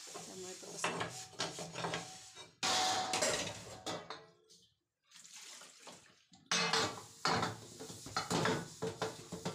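Dishes being washed at a home kitchen sink, with running water, clattering pots and utensils, a brief quiet pause midway, then more splashing and knocking of dishes, fairly close.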